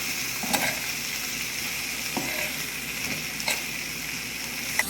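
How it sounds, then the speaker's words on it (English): Sugar being stirred into a jug of Brazilian limeade, a steady gritty swirling with a few soft clinks of the spoon against the container, close and continuous with no talking. "I stir the sugar into our lemonade"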